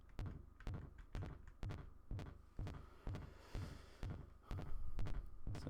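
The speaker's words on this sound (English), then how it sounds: "Sounds more like a squishy heartbeat than anything else" Synth tone from GoatTracker chiptune software forms a soft, squishy thump repeating in a steady heartbeat-like pulse, about two beats per second, low and muffled with no voices.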